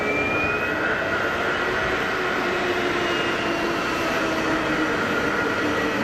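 An Airbus A320neo jet engine roars at Geneva Airport, a loud, steady broadband rumble with a faint rising whine, sustained without break and heard from fairly close.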